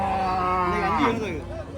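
A calf moos at the Salem Minnampalli cattle market, a long, bending low call over a busy crowd murmur, with other livestock and voices of people talking nearby.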